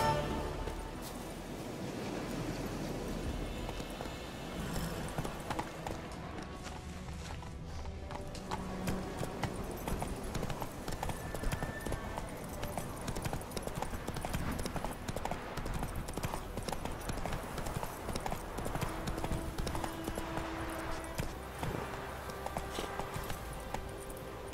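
Roach the horse's hooves clip-clop at a steady walking pace in The Witcher 3 video game, layered under game music and ambience, with an occasional soft whinny.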